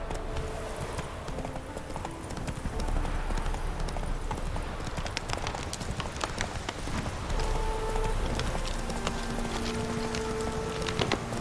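The horse Roach gallops in The Witcher 3, a steady, rapid clip-clop of hooves running throughout at moderate volume over faint game ambience.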